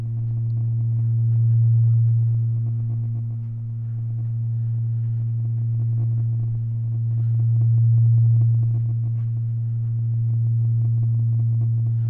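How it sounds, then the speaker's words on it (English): A steady low test tone played through a single subwoofer in a home theatre room, a deep continuous hum swelling and fading slightly in level, with no talk over it. "Now this is all coming from one subwoofer"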